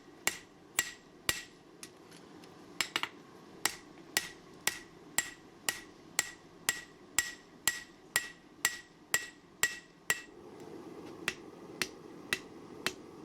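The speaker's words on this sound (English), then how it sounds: "I'm starting to hammer in the bevels" Sharp metallic hammer strikes forging bevels into an 80CrV2 steel kitchen knife land in a steady rhythm, about two per second, close and loud, with a short pause partway through and a low hum underneath.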